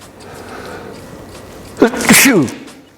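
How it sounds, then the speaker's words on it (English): A single loud sneeze bursts out near the end after a quiet stretch, with a sharp intake and forceful release. "Sorry about that, I had to sneeze"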